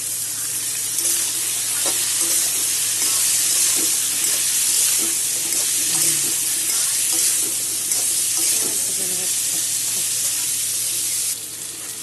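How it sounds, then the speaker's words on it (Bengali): Pumpkin stalk vegetables fry loudly with green chilies, turmeric and salt in a pan, making a dense, steady close sizzle with occasional soft stirring knocks. "সব একসাথে ভেজে নেব।"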